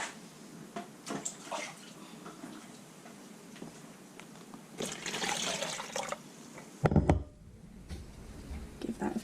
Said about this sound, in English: now to add some water